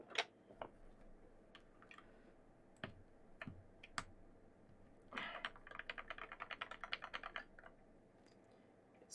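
Keycaps are fitted onto a curved Sagittarius mechanical keyboard. Scattered sharp plastic clicks and snaps are heard close up, followed by a quick burst of repeated key taps, all quiet, with no talking.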